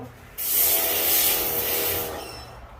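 A pressure washer sprays a Mazda Miata outdoors, a loud steady hiss of water jet that starts abruptly after a moment, holds for about two seconds, then tapers off, heard from nearby in the background.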